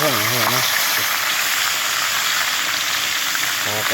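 Barramundi (sea bass) frying in hot oil makes a loud, dense, continuous crackling sizzle up close. A voice speaks briefly at the start and again at the end.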